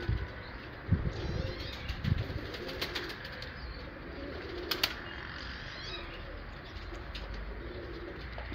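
Turkish tumbler pigeons flying outdoors. A few sharp wing claps and soft cooing rise over a steady, noisy background, with no talking.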